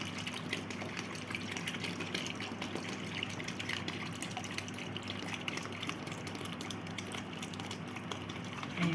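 Water poured into a mixing bowl of dough: a steady, gushing stream of liquid running continuously at moderate level, close by, with no talking.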